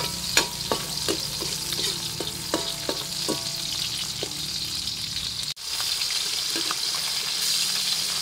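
Sautéed garlic hits a pot of mung beans with a loud, steady sizzle, broken by clinking stirring taps early on and a brief cut midway before the frying hiss resumes.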